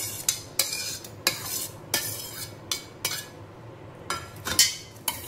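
Spoon stirring a bowl of corn salsa with onion, chili and tomato, giving repeated close scraping clinks in a steady rhythm, about ten strokes over the span, with no talking.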